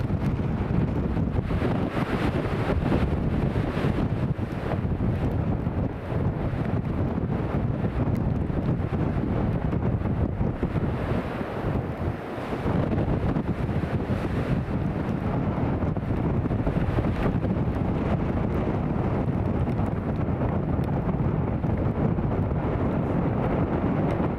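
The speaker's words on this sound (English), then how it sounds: "Apart from the wind, it's very nice." Strong wind blows steadily at Newcastle International Airport in a crosswind, roaring and buffeting the microphone loudly and without a break across the whole stretch.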